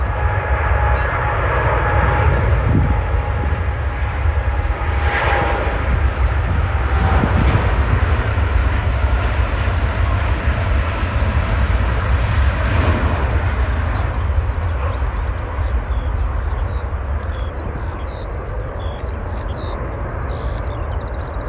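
An Etihad airliner bound for Abu Dhabi takes off at Manchester Airport, a loud sustained jet engine roar lasting the whole stretch, fairly close and gradually easing, with occasional voices talking underneath.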